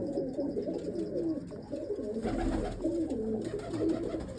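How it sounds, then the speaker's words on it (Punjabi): Several jaggery-coloured pigeons coo continuously and close by, their low, rolling calls overlapping throughout against a faint background. "ਆ ਕਬੂਤਰ ਬੈਠੇ ਆ"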